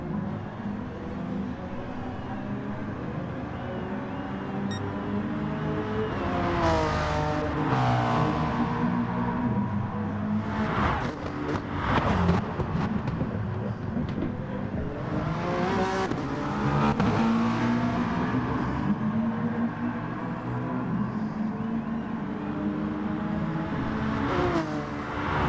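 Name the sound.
GT4 race cars racing at Spa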